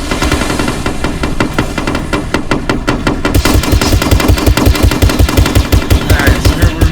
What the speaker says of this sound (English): Alright, so we're getting shot at.